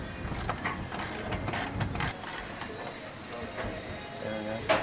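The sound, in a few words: T10 Torx screwdriver turning screws on jeep turn signal light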